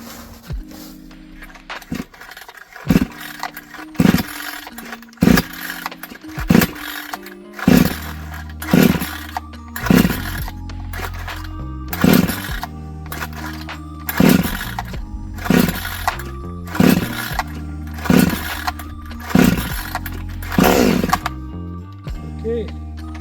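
A Vevor 58cc chainsaw on synthetic-blend fuel is pulled over repeatedly, about fifteen sharp rhythmic starter pulls with brief engine catches and low puttering between them, fairly close.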